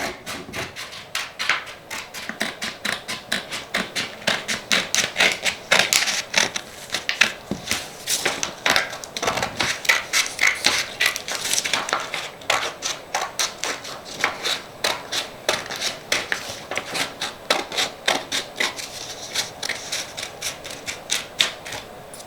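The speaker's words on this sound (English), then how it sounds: "we're going to take our scissors and we're going to cut around the dotted line" Rapid, repeated crisp snips and crunches, close up, going on steadily like scissors working through paper, with brief pauses between runs.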